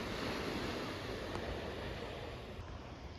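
Surf washes onto a beach in Portugal near Sesimbra, a continuous broad rush of breaking waves with steady wind buffeting the microphone, loud and unbroken throughout.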